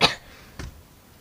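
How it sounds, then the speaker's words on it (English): One short, sharp cough comes close and clear, followed by a softer second throat sound about half a second later, then quiet. "sorry, I'm busy coughing."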